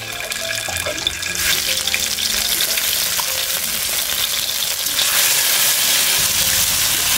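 Spice paste of ground ginger, cumin and chili frying in hot oil in a kadai for a Bengali vegetable curry, a dense, loud hiss that grows harsher and brighter partway through, with no talking.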